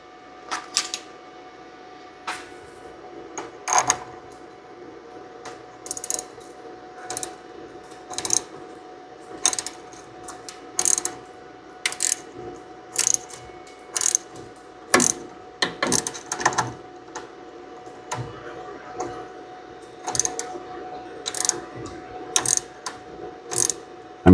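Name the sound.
double flare tool flaring a brake line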